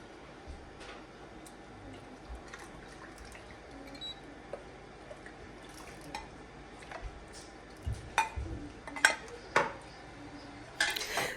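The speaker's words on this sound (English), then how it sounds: "Gently stir everything together until it becomes very nice and thick" Tuozaafi porridge being stirred in a pot: soft scraping with occasional clinks of a spoon against the pot wall, growing sharper and more frequent toward the end, with no talk.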